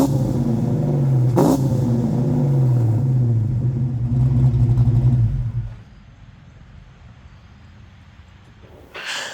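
A car engine fitted with a new exhaust revs hard, the note sliding down into a steady loud rumble, then drops suddenly to a quiet, low idle burble for the last few seconds.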